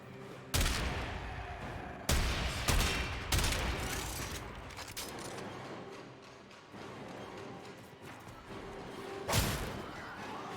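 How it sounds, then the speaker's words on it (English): Shotgun blasts in a video game: a handful of loud, sharp booms spaced a second or more apart, each with a short ringing decay, and no talking over them. "And I brought my shotgun."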